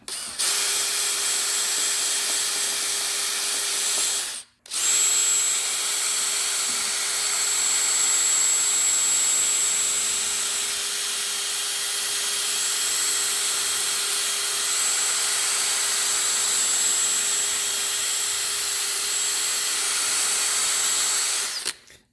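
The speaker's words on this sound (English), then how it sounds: "Get a nice coarse guy here, coarse wire wheel that is" A coarse wire wheel on a power tool spins against a Kia Forte wheel hub, giving a loud, steady whirring grind that stops briefly once and then runs on continuously.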